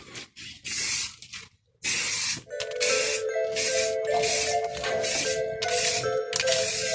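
An aerosol can sprays a thick second coat of paint onto a car part in repeated hissing bursts, about nine close, loud spurts with short gaps between them.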